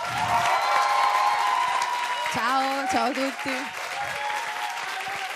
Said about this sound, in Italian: Facciamo un applauso allora per Annalisa